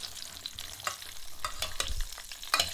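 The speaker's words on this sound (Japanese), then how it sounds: "きっちりとアロゼしていきます。" Duck breast being basted with hot fat in a frying pan: a steady crackling sizzle with sharp spoon scrapes and splashes at irregular intervals, close and moderately loud, with no talking.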